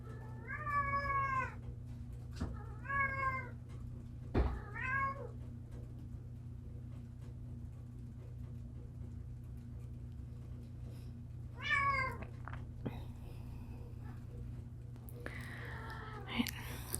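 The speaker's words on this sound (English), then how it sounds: "you'll be able to hear my cat in the background like that. He is incredibly vocal." A very vocal pet cat meows several times in the background, a few drawn-out calls spaced over the span, faint against a low steady room hum with soft whispering in between.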